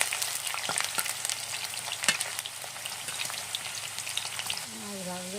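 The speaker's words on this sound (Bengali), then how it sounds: "আলুটা উল্টে পাল্টে ভেজে নেব।" Potato pieces fry in oil with a steady, soft sizzle and scattered crackles and pops, close by and fairly quiet, with no talking over it.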